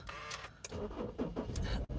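A car engine cranks and turns over on a rainy camping day, with a short starter whir followed by the engine catching into a rough, fairly close rumble, heard without talk.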